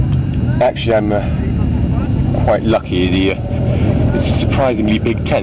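Motorcycles of arriving bikers rumble past at a large biker gathering, a steady engine drone under someone speaking close by.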